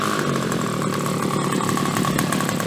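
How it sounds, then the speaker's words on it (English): Nexstar Select nitro RC car engine idling, a close, loud, rapid buzzing rattle that holds steady without any talk. "It idles really nice too."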